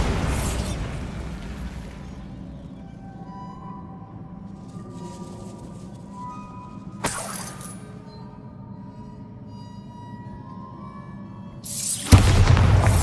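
Bombarda spell explosions in Hogwarts Legacy, two sharp bursts with shattering debris several seconds apart, the second louder, each followed by a decaying rumble over quiet ambience.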